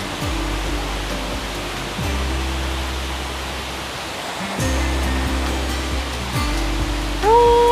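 Sarika waterfall in Nakhon Nayok during the rainy season, a tall cascade falling from high above, roars as a steady, loud broadband rush throughout, with no talk.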